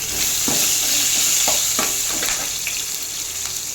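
Green chillies frying in hot oil already seasoned with mustard seeds and cumin, left from deep-frying brinjal, sizzling steadily with a close, continuous hiss and occasional stirring scrapes and pops.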